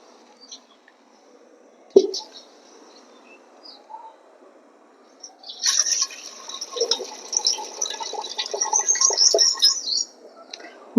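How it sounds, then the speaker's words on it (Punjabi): Water is poured off rice in a kitchen after rinsing, a sudden splash followed by a steady, close pouring and trickling stream lasting several seconds. "ਹੁਣ ਆਪਾਂ ਇਹ ਪਾਣੀ ਕੱਢ ਦੇਾਂਗੇ"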